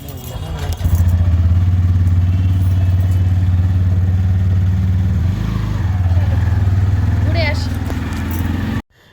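A motorcycle engine hums steadily up close, a low droning rumble running the whole time, with faint background noise and a brief rev near the end.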